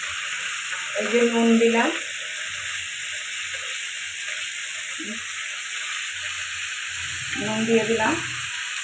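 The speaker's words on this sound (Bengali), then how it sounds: "দিয়ে এবার একটু নাড়াচাড়া করে ভালো করে ভেজে নেব পেঁয়াজ কলি আলুটাকে।" Potato pieces and onion stalks fry in a pan with a constant soft sizzle, swelling into louder crackling bursts twice as the food is stirred, while someone talks briefly in between.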